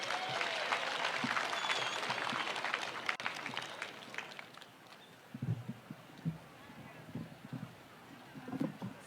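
An outdoor crowd at a burial gathering in Kirinyaga applauds to welcome Pastor Dorcas, steady clapping that fades after a few seconds into scattered claps and low thumps.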